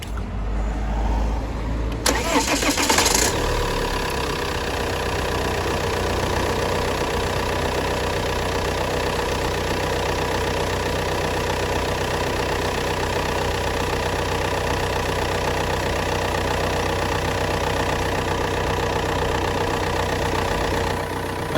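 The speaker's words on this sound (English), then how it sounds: "I'll go and start the engine." An Alfa Romeo Giulietta engine cranks briefly and catches, then settles into a steady, even idle that holds for the rest of the stretch, heard up close with no talking.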